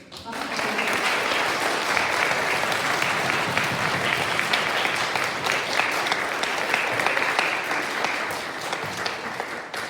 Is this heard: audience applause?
yes